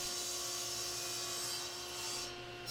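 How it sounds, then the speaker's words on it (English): Table saw cross-cutting and ripping wood boards after planing, a steady loud whine with a constant hum running throughout and a rasping cut noise, easing slightly near the end. "cross-cutting and ripping on the table saw"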